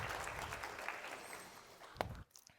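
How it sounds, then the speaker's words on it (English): Audience applause for a speaker at a scholars conference session, a fairly faint wash of clapping that carries on for about two seconds and then stops abruptly. "could we just give a round of applause for Cheryl?"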